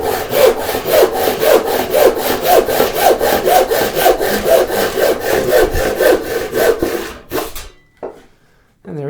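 A dull hand saw cuts wood in about two dozen steady, rasping back-and-forth strokes that are loud and close, then stops abruptly, followed by a few faint knocks.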